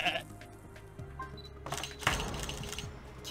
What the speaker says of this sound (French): c'est une chèvre présidente